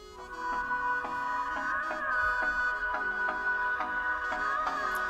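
Electronic NCS music plays continuously through the bottom-mounted loudspeaker of a Xiaomi Redmi Note 5 smartphone, a steady beat-driven track with regular rhythmic pulses, alone and without talk.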